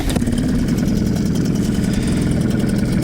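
A small outboard boat motor, 3 to 3.5 horsepower, starts and runs at a steady, throaty idle from start to finish, close and loud, with a brief catch right at the beginning.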